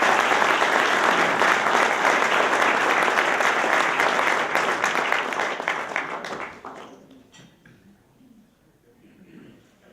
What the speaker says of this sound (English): Let's give a round of applause to the Sun Journal